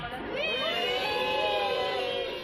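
Children's voices shout and cheer together during a street walkabout with Saint Nicholas in the market square of Sarreguemines, a loud, sustained, high-pitched crowd din with no pauses.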